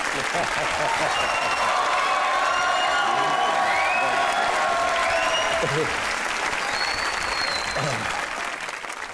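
Sustained studio audience applause continues for an actor guest on a Pakistani comedy talk show, thick and even, with some cheering and a whoop, then tapering slightly near the end.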